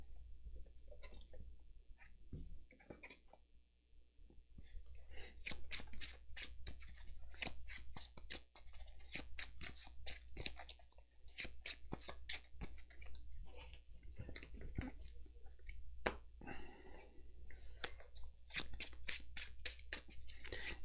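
Marvel Champions playing cards being shuffled, a run of quick crisp riffling and flicking strokes that go on steadily over several seconds, close by, with no talk.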